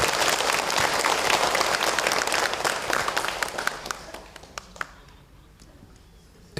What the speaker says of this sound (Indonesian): Tepuk tangan buat ibu biar kita makin semangat